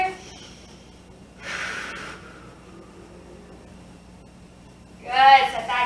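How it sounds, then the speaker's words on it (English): Children in a family yoga class at a library take deep breaths, a long audible exhale near the start and another breathy burst at the end, with quiet room tone in between. "Deep breaths here."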